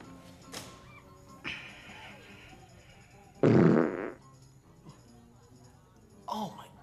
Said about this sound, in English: Dude, I got fart so bad.